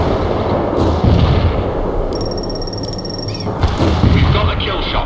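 An artillery barrage in the video game World in Conflict booms as dense, loud, continuous rumbling blasts, with brief electronic beeps and radio-style voices mixed in.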